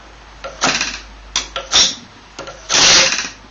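An OS .46 LA model engine is flicked over by hand with a screwdriver, giving several short rasping bursts and kicks, close and loud, the last one longer and stronger.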